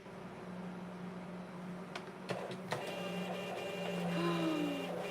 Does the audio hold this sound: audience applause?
no